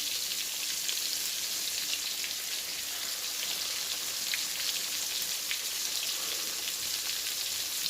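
Flattened chana dal dough pieces fry in hot ghee with a constant, even sizzle, a bright crackling hiss that holds steady and close with faint pops and no voices.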